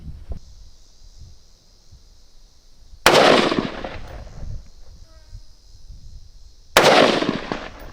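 Two loud rifle shots at a 200 yard target, fired with a red dot sight, about four seconds apart. Each is a sharp crack with a decaying tail over a steady high electronic whine and a faint background.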